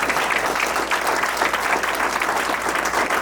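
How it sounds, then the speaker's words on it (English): Sustained applause from a crowd at a college graduation ceremony, a dense steady clapping that fills the space without pause. "please give another applause for this"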